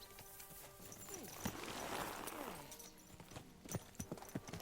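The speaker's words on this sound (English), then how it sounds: "Okay, now I see my horse." Horse hooves clip-clop in the video game Kingdom Come Deliverance II, quiet and irregular against a soft ambient bed with a swelling whoosh. Faint scattered hoof knocks are heard, and no one talks.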